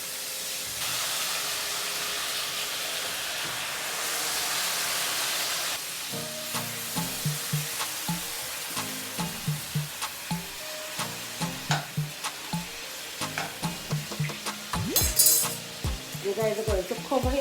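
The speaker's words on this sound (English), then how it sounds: "So guys, the butter is finished to be melted, and it's time for me to get in our pork." Pork pieces hit melted butter in a pot for Jamaican stew pork, starting as a steady loud sizzle, then crackling and popping in short repeated bursts as the meat is stirred, close and dominant with no talking.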